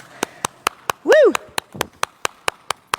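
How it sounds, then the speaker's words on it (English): A single person claps slowly and steadily at close range in a sparse audience, with a short vocal whoop breaking in partway through. "There's kind of an applause for the first time in 14 weeks."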